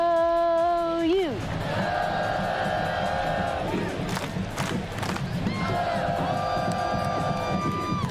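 A packed stadium at an OU Sooners football game roars with sustained cheering and chanted yelling, loud and continuous, with sweeping voices rising and falling across the crowd.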